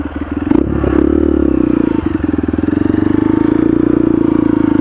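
A Honda XR150L motard motorcycle engine idles steadily and loudly up close, with a low rhythmic chug and a brief clatter near the start.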